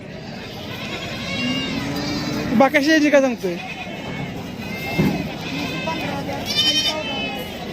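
Goats at a livestock market in Sangola give a couple of short, wavering bleats near the middle, under steady conversation and general crowd chatter.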